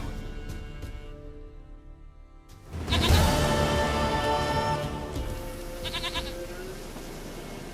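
Goat in The Witcher 3 gives a couple of short bleats over a steady background of in-game ambience, with a louder swell of sound partway through.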